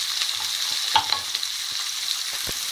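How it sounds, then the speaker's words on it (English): Onions fry in a pan with a steady close sizzle, broken by a few stirring scrapes and knocks, with no voices. "And let those onions cook through before we add some spice to this."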